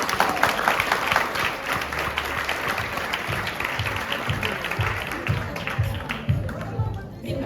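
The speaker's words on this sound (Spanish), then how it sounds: "¡Un fuerte aplauso!" Steady applause from an audience at a poetry cabaret evening, a dense even patter of many hands clapping continuously for several seconds at moderate loudness.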